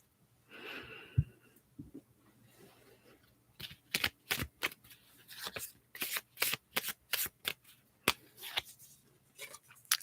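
Lunar tarot-style cards are shuffled up close in a quiet room, giving a run of crisp riffling snaps and flicks in an uneven rhythm after a few soft breaths.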